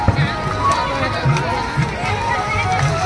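Steady crowd babble and footsteps at a busy Durga Puja pandal fair in Bilaspur, a dense close murmur of many people moving about with no single voice standing out.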